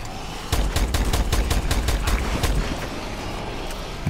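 Rapid gunfire from a zombies mode in the video game Call of Duty: Advanced Warfare, a close burst of sharp repeated shots in quick succession, then a trailing rumble of fainter shots.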